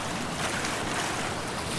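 Ocean waves crash and wash onto a beach in a continuous broadband roar, with wind buffeting the microphone and no voices.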